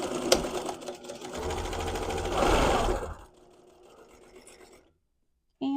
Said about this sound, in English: make sure you back stitch really well